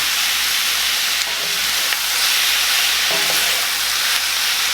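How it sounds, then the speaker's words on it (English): Seasoned cubed steak tossed in a hot skillet, a loud continuous sizzle and hiss with a few soft scraping knocks of the stirring, with no talk. "we're going to give this another little toss just to combine everything"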